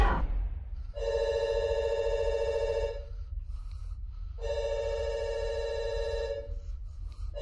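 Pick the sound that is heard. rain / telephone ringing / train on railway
telephone ringing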